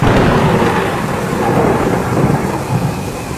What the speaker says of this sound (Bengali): হুটহাট বাজ পড়ছে এদিকে সেদিকে